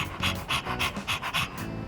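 Rapid rhythmic panting of a dog in Persona 3 Reload, about a dozen quick breathy huffs in an even cycle, close and fairly loud, with no voices over it.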